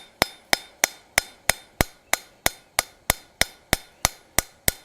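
Sharp metallic hammer strikes ring out at a steady, even pace, about fifteen blows in quick succession texturing a forged metal cross, close and clear with no talking.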